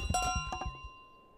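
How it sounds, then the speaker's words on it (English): A miniature golden bell in Untitled Goose Game rings with a few quick bright clinks, then a sustained metallic ring that decays over about a second, near and clear. "Steal the beautiful miniature golden bell!"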